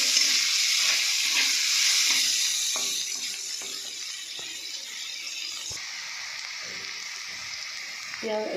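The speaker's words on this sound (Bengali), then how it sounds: "আর একটু পেঁয়াজ দিয়ে দেবো। পেঁয়াজটা ভেজে নেব।" Onions and potatoes sizzle steadily in a pan, a bright continuous frying hiss with small clinks and stirring knocks, loud at first and easing slightly after a few seconds.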